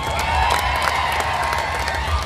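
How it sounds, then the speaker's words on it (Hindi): Crowd at a Congress political rally in Solapur breaking into applause and cheering, a dense continuous wash of clapping with scattered shouts, steady and fairly loud throughout. "ये अभी आप ताली जल्दी बजा गए।"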